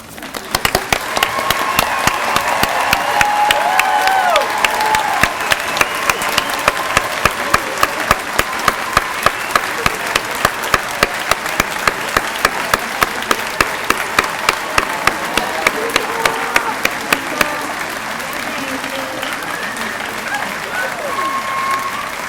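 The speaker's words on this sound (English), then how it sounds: "Please remain standing so that your families and friends can applaud you." Sustained applause from a large crowd of families and friends at a college degree ceremony, dense steady clapping that carries on for over twenty seconds before thinning out near the end.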